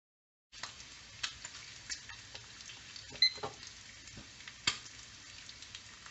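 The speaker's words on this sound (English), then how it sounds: "Just frying up a little bacon here" Bacon frying in a pan for a late breakfast in a home kitchen, giving a steady soft sizzle with scattered small pops and crackles, fairly quiet and close, with no talking.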